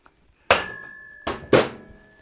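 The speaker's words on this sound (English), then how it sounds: "If you don't have one, put something soft there like a piece of wood. You don't need a hammer this big." Three sharp metallic hammer strikes on a Harley-Davidson Sportster motorcycle front axle, one alone and then a close pair, each ringing briefly with a sustained metallic tone.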